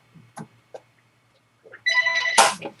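A telephone rings indoors with a bright electronic trill that comes in after a few quiet knocks and soft sounds, close and fairly loud.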